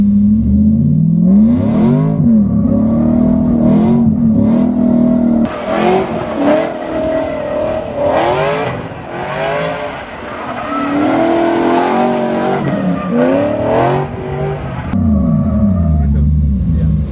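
Drift car accelerating on a practice course, engine revving and rumbling loudly with rising and falling pitch, possible tire squeal, with brief voices talking near the start.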